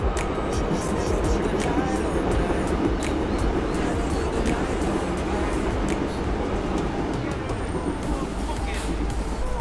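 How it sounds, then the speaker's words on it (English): A train runs through a forest near a viewpoint in Seoul, South Korea, a dense steady rumble with faint rhythmic clicks holding at a moderate distance for about ten seconds. "Oh, there it is, the train."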